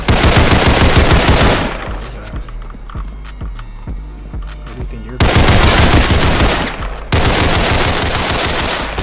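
AK rifle fire in a crime-themed shooter game, loud rapid automatic bursts in long sustained strings broken by brief pauses, close and dominant throughout.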